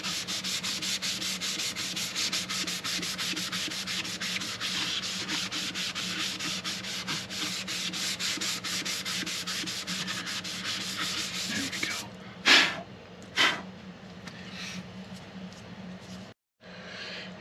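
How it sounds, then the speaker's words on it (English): A cloth dampened with denatured alcohol wipes down the wooden top of a handmade mandola in rapid, repeated rubbing strokes. The strokes run evenly for a long stretch, then give way to a couple of separate louder swipes and a brief silence. "I'm just wiping it down using some denatured alcohol to pull any dust out"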